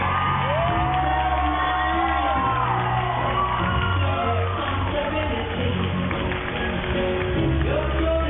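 A crowd at the end of a New York Fashion Week runway show cheers, whoops and shouts continuously, loud yet slightly muffled and dense throughout.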